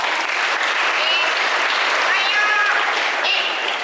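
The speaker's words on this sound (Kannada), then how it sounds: "ಚಪ್ಪಾಳೆ ಹೊಡಿತಾ ಬೇಗ ಹೊರಗಡೆ ಬಂದ ಅಂತ ಇನ್ನು ಜೋರಾಗಿ ಚಪ್ಪಾಳೆ ಹೊಡಿತಾರೆ ಅವರು" A school program audience claps loudly and continuously, dense applause holding steady for several seconds without a break.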